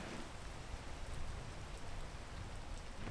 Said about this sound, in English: I'll wait until the rain stops.